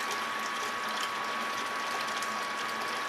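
Water pours steadily out of a home-brewing vessel being emptied after a warm rinse, a continuous broadband splashing rush that stays close and even for the whole stretch, with no voices over it.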